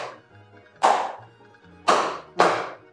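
Children stomping their feet on the floor, giving three or four sharp thumps spaced unevenly, with quiet low hum in the pauses between them.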